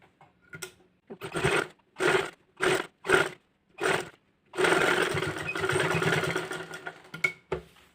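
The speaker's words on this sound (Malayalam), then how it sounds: "ഈ ക്രോസ് പീസ് നമുക്ക് പതിച്ചടിക്കാം" A sewing machine stitching a cross piece of nightie fabric in short bursts of rapid mechanical whirring, then one long continuous run, close and loud with pauses between.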